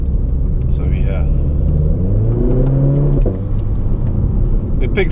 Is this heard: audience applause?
no